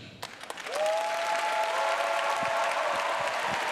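A crowd at a tap dance celebration in Riesa starts with a few scattered claps, then swells into full, steady applause, while a thin sustained tone hangs over it.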